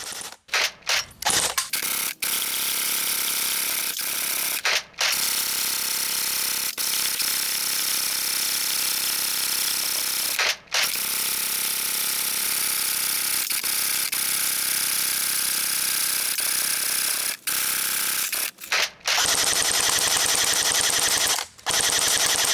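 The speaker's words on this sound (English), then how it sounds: "Sure as heck did shoot all those cans in half, and it took just about a little over 1 magazine" Full-auto airsoft fire from a 6mm AK47 Cybergun or Sig Sauer Virtus peppering a row of cans: long, dense mechanical bursts, loud and close, broken by a few brief pauses between strings.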